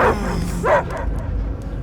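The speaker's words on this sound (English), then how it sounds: "I hear only barking" A dog yips and barks a couple of times close by in Marvel's Guardians of the Galaxy video game, with a low rumbling background and a faint whimpering tone.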